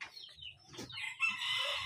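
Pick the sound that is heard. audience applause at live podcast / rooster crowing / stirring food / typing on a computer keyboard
rooster crowing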